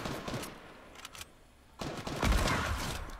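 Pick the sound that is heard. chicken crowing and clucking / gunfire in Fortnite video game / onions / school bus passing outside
gunfire in Fortnite video game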